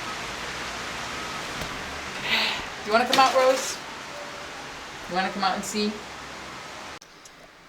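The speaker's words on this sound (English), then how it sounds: "it is absolutely pouring down rain right now" Heavy rain pours down outside as a steady, close broadband hiss, with a person speaking over it in short phrases before the rush abruptly drops away.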